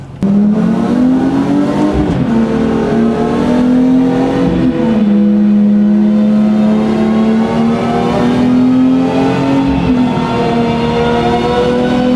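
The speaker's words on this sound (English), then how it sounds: "drive up to like 100 miles an hour, and then we just put it into neutral and it just slows itself down over however long" A Ford Mustang runs on a chassis dynamometer, its engine droning loud and steady at high speed. The pitch rises and dips slightly in a few places as the car holds speed and then eases off.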